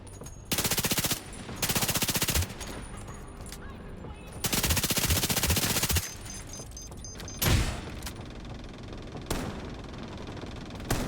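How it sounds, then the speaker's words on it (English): Sustained bursts of heavy machine-gun fire in a video game, three long loud rattling volleys separated by quieter gaps with a few isolated thumps. "Who is shooting? You are shooting?"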